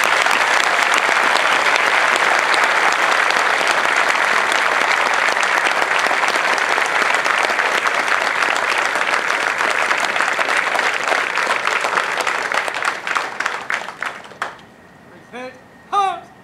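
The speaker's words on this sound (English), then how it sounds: "please join me in a round of applause" Spectators at an Air Force basic military training parade break into loud, sustained applause that gradually thins out into scattered claps and a few distant voices and cheers.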